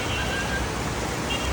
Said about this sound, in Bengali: কেমন বৃষ্টি দেখেন